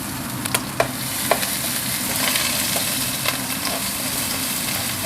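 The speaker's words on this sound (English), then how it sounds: "So I'm gonna add all garlic chili." Garlic and chili sizzle in a hot pan for a Thai holy basil stir-fry, a continuous bright frying hiss broken by a few sharp clinks and scrapes of stirring, close and steady with no talking.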